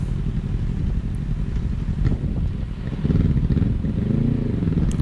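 A heavy 300 kg motorcycle is ridden back onto the road in open country, its engine a steady low rumble that swells toward the end, with wind noise over it and no talk.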